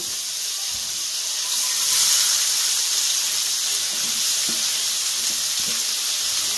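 Sliced onions sizzle in hot oil in a pan, a steady bright hiss swelling slightly midway, with faint stirring knocks beneath and no talking.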